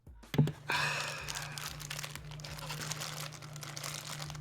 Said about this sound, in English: What JD doesn't know is that crinkling sound is.